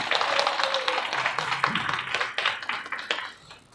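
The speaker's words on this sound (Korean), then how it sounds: "다시 한번 큰 박수를 보내주시면 감사하겠습니다." Audience applause at a lecture event on international affairs and reunification, steady broadband clapping from a seated crowd lasting several seconds at even loudness, fading slightly near the end.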